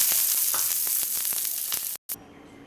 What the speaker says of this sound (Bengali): এবারে আমি পেঁয়াজগুলো ভেজে নেব